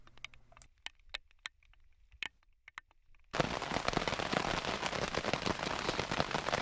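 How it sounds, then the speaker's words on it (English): Steady rain pattering on a tarp shelter at a canoe campsite in Algonquin Park, after a few seconds of scattered loud drops, then a dense, continuous close drumming. "raining for over 7 hours straight"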